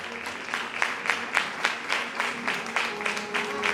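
Audience applause during a religious sermon gathering, a moderate crowd clapping in a loose, rhythmic pattern of distinct claps, fairly steady and mid-distance throughout.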